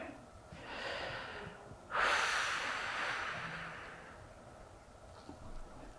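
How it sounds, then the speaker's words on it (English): Slow, soft breathing during a yoga stretch, a long airy inhale then a fuller exhale, close and quiet over faint room noise. "And just breathe here."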